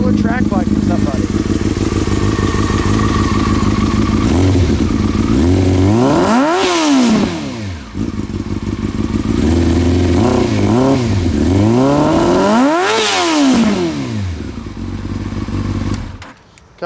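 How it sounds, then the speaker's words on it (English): A 2005 Yamaha R6 sport bike engine runs steadily close by, with two rising rev blips that climb and fall back to idle; a voice talks over the running engine. "2005 Yamaha R6. Bike runs great."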